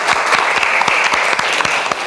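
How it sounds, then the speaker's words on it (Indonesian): A class applauding two students at the end of a lesson, a close, steady patter of many hands with distinct claps punctuating the continuous wash. "Berikan tepuk tangan untuk dua orang ini."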